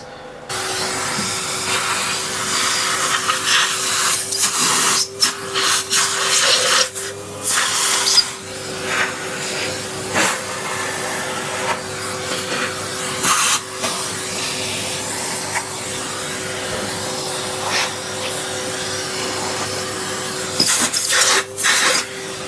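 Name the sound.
vacuum cleaner (hoover) cleaning up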